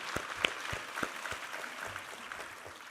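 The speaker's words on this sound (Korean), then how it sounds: "우리 하나님께 감사와 영광의 박수 올려드리겠습니다" A church congregation applauds during a Sunday worship service, a dense, even wash of clapping from a large crowd with a few distinct nearby claps, heard from some distance.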